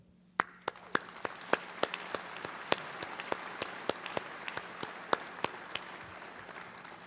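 Applause for commencement inductees: a crowd claps steadily for about seven seconds, with sharper individual claps standing out in a quick, regular rhythm over the softer mass of hands.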